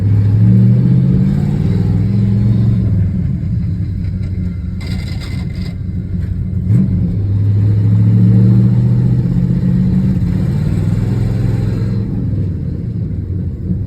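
Low, heavy rumble of a cheap Chevy Nova with a 3-speed manual and stiff linkage, engine droning and swelling as it drives and revs, loud and close inside the car.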